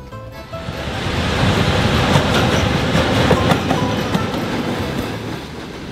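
A train rumbles past close by in a forest in Ukraine, its rolling roar rising and holding with faint rhythmic clacks of wheels on rails.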